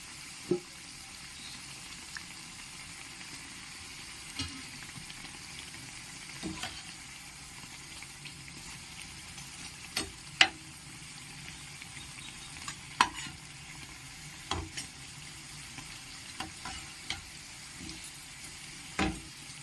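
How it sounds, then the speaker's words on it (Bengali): Khaja pastries deep-frying in hot oil until deep red, turned partway through, give a low steady sizzle with scattered sharp crackles and pops throughout, close by and fairly quiet. "আমি সেগুলো পাল্টে নিলাম একদম লাল লাল করে ভেজে নেবো"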